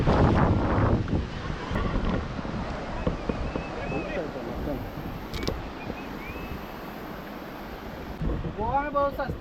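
Strong sea waves at Murudeshwar beach surge and wash in a continuous rough roar, heavily buffeted by wind on the microphone, with a brief voice near the end.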